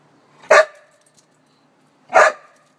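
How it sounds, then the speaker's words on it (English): A dog barks twice at a chipmunk outdoors near a driveway, two sharp separate barks spaced well apart with quiet between them. "So she's barking at the tiniest little chipmunk"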